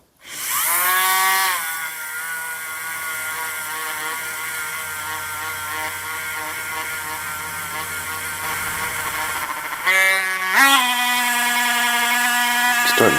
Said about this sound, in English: the third way that I'm going to clean up the screwdriver is with one of these conditioning wheels on a Dremel